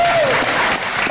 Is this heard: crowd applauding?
yes